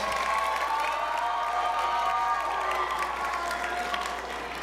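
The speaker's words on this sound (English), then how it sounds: "Can we give them a round of applause?" An audience in a cave venue applauds in a steady, dense wash of clapping that holds for several seconds before easing slightly at the end, with faint crowd murmur mixed in.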